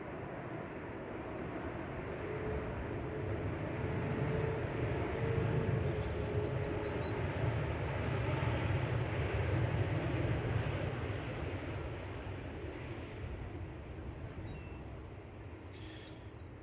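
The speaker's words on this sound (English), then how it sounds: "here it is, JZHU coming in from Salzburg with flight 934." An airliner arriving from Salzburg into Manchester Airport produces a long, distant engine roar that builds gradually, peaks midway and slowly fades, with faint bird chirps high above.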